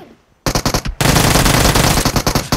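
Bursts of automatic gunfire from an enemy on a rooftop in PUBG Mobile, loud and close, opening with a short rapid volley and then a longer sustained stream of shots.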